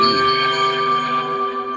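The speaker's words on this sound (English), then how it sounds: "phone had to chime in on that" A phone's notification chime, a single clear bell-like tone that rings out loudly and then slowly fades.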